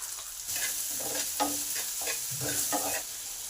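Onion, potato and eggplant fry in a pan with steady sizzling, broken by several spatula scrapes and stirring strokes, close and moderately loud with no talking.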